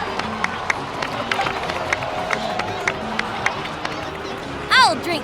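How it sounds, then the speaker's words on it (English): A video-game crowd cheers and claps in the background, with a voice speaking over it and a brief rising whoosh near the end. "please give another round of applause for them"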